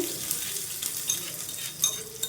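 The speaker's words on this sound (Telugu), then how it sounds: "ఈ పోపుని వేసేసుకొని మంచిగా కలిపేసుకోవాలండి" Hot tempering is poured into bottle gourd chutney and mixed in, giving a soft close hiss and sizzle with a few sharp spoon clinks against the bowl.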